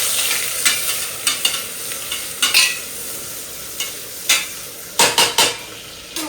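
Onions and green chilies sizzle in a hot pan while a utensil stirs and scrapes in irregular bursts, fairly close, with no talking.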